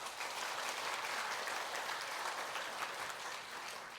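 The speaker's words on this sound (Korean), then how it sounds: "우리 수고했다고 박수 한번 합시다" Church congregation clapping together, a steady dense wash of hands sustained at even strength for about four seconds, with no voices above it.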